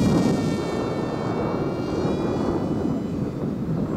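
A model RC concept jet flies by with a continuous rushing engine roar at moderate distance, steady throughout with no talk.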